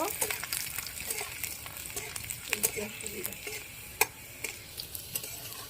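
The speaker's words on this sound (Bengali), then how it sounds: "এবার তেলের মধ্যে দিয়ে দেবো হালকা করে ভেজে" Ghetkol stalks, split in two, fry lightly in hot oil with a steady broadband sizzle, broken by sharp stirring scrapes and clicks of a spatula in the pan.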